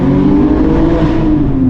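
A Porsche GT3 engine revs hard and close, a loud, full, steady mechanical howl that falls slightly in pitch at the end of a short burst, with no talking.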